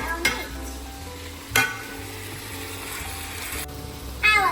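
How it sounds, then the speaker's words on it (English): Meat browning in a pan for lasagna, a steady sizzle and fry with a few sharp clatters of stirring utensils. "First, we brown our meat."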